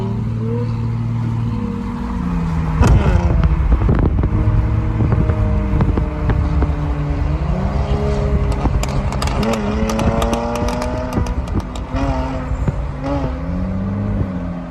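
A car exhaust on a 2JZ IS300 or V6 Challenger crackles with scattered sharp pops and bangs over engine revving that rises and falls, loud and close, with no talk.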